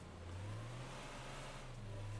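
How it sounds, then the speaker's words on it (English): A car engine in the driving game Taxi Driver: The Simulation, a steady low hum with a slight rise as the vehicle accelerates, continuous and fairly close with no talking. "that car just spawned right there"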